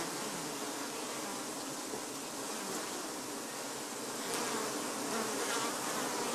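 Dense, steady buzzing of many honeybees close by on a hive brood frame, a continuous drone with no voices.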